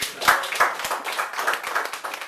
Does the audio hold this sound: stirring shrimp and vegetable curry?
no